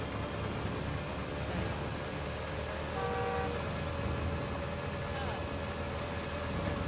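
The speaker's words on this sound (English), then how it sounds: "People just start like fucking honking at you" A steady roar of city traffic plays in Gotham Knights, with a brief car horn honk rising out of the din partway through. People talk over it.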